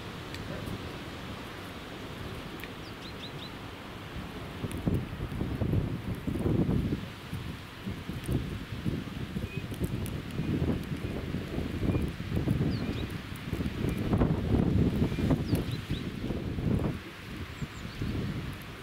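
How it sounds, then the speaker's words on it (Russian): Wind gusting and buffeting the microphone outdoors, rising and falling in waves, with faint rustling. "ветер такой."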